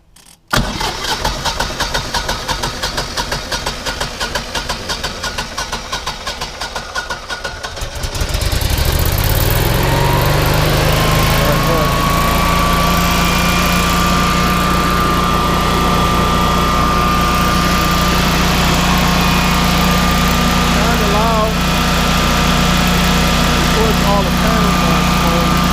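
A Generac 24 kW standby generator cranks with a rapid rough chatter for several seconds, then catches and settles into a steady, loud engine drone that continues to the end, with faint voices underneath.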